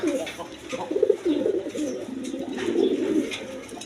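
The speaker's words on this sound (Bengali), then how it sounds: "একদম বিগ সাইজের লোটন কবুতর অরিজিনাল লোটন দেখেন" Big Lotan pigeons coo in a steady low murmur, several birds close by with overlapping throaty calls and no talk over them.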